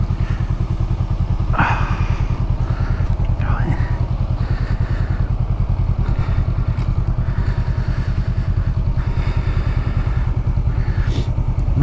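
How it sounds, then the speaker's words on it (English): A Honda Rebel motorcycle engine runs steadily throughout, a constant close low rumble with occasional thumps and clatter and some talk over it. "Let's get a bit of warmth from this engine."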